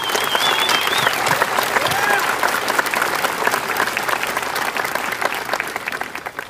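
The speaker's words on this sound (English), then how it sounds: "Please join me in acknowledging Eastern's dedicated professionals with a round of applause." A large audience at a college commencement ceremony breaks into sustained applause, a dense, steady roar of clapping that holds throughout and thins slightly at the end, with a faint whistle and some crowd voices mixed in.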